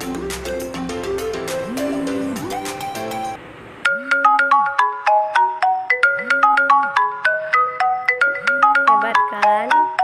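A phone ringtone styled after the WhatsApp iPhone call tone plays loud and close, a bright repeating melodic pattern of chiming notes that briefly drops out before resuming with steady rhythmic pulses.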